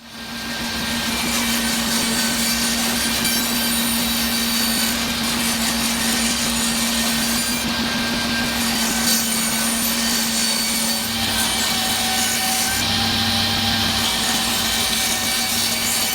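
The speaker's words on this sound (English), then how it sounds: "cleaned it up on the table saw to get rid of the rounded corners and rough surface" Table saw cutting old framing pine in a workshop, smoothing rounded corners and rough faces off the stock; a steady, loud, continuous whine runs throughout, with brief shifts in tone near the end as the blade load changes.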